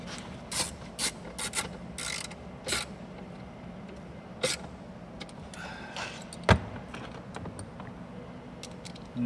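Hand ratchet tightening the speaker bolts inside a Jeep Wrangler JKU front driver door: quiet, close clicking and rapid pawl ticks in short bursts, with faint rubbing and handling between them.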